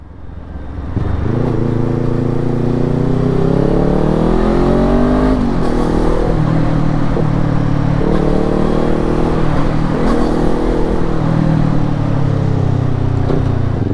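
Yamaha R250 motorcycle with an Akrapovic exhaust, heard close and loud as the engine revs climb through several gear changes, each pull rising in pitch before dropping, with a continuous throaty roar.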